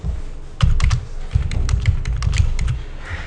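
Close, crisp clicks on a computer keyboard come in quick irregular bursts as an IP address is entered, with short pauses between keystrokes and no talking.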